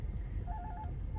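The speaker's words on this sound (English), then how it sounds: "sorry, the phone." A telephone rings with a faint electronic tone in a few short repeated pulses, heard at a distance under a low background hum.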